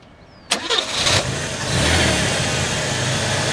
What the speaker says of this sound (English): So we're going to go ahead and crank it up.